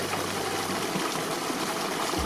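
Cold mountain spring water flows in Kashmir with a steady, continuous rushing and trickling close by, alone and without voices.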